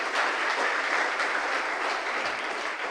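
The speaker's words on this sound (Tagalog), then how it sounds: "Sige, palakpak kay Lord." A church congregation claps in sustained, even applause, a close dense patter of many hands with no talk over it.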